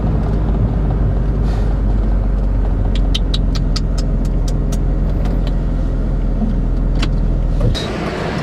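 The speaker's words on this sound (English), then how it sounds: "I'm so happy to be on the road again. In a BMW every time again." A BMW Z3 drives along the road with a steady, loud engine and road rumble that runs throughout, closing with a brief change near the end.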